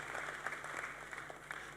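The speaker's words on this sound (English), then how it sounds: "Let's give them a round of applause as they make their way." Audience at a pension summit applauds panelists walking up to the stage, a faint, distant patter of clapping held under a low steady hum, soft and continuous.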